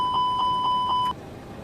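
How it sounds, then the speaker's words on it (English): Engine 2 fire test warning in a ToLiSs A320neo cockpit in X-Plane 12, several quick pulsing electronic chimes for about a second before cutting off, clear and up close. "Engine 2 fire test. We just need to see the engine fire light."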